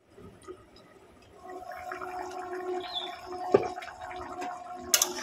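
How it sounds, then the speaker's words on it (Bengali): Water poured into a pot of rui fish curry with potatoes and pointed gourd, gurgling and splashing softly at moderate distance, with small clinks and drips toward the end. "গরমে আর একটু জল দিয়ে দেব"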